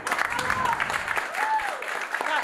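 Applause from a stand-up comedy audience, a steady dense clapping that fills the room and holds at an even level, with a voice talking over it.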